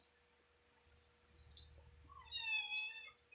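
A cat lets out a short, clear meow after some quiet rustling, fairly close and faint overall.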